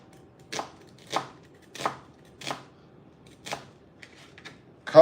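A knife slicing onions for a raw vegan kale salad: five evenly spaced crisp chops on a board, close and clear, followed by a few lighter taps.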